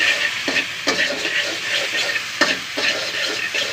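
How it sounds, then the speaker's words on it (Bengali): Fried rice ingredients with chili paste are stir-fried in a hot pan for a picnic meal, a steady close sizzle broken by repeated scraping stirs of the spatula, no voices. "ভালো মতন এখন কষিয়ে নিচ্ছি আমরা।"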